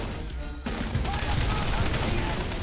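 Gunfire crackles in the Men of War: Condemned Heroes video game, a dense stream of distant small-arms and machine-gun shots layered over a continuous battlefield din.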